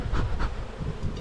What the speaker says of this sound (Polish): A pszczoły do czarnego to tak idą